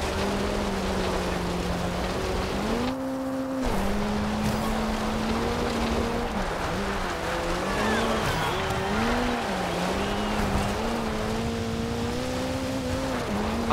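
Modified 1977 Ford Escort RS1800 with a smaller engine making about 530 horsepower, driving offroad in Forza Horizon 2, engine droning and wavering in pitch with tire noise, brief dropout near the start, steady and close throughout.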